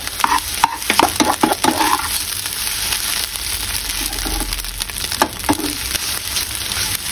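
A spatula stirs egg pasta in a pan with vinegar, a street-style cook scraping and tossing it with a steady wet sizzle, close and loud, broken by sharp scrapes.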